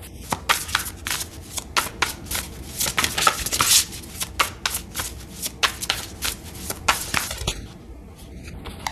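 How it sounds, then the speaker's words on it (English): Tarot cards are shuffled by hand in rapid riffling bursts, a close, crisp flutter of snaps and slaps repeating for several seconds before settling. "I wasn't quite ready with the shuffle."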